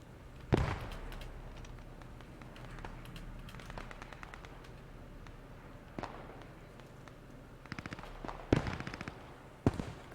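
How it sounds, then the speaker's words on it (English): An Allied sniper's thrown grenade detonating in a tactical war video game, one sharp distant blast standing out among scattered pops, footsteps and crackling battle noise, all fairly faint. "It is the one of the two Allied snipers throwing a nade."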